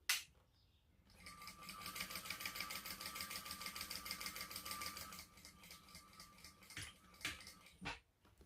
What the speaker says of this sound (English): we're going to top stitch across this edge here.